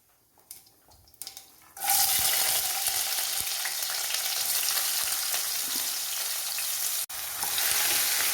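Ginger and garlic drop into hot oil with mustard seeds and burst into a loud, steady sizzle that runs continuously after a few soft clatters, briefly cutting out near the end before resuming, with no talking.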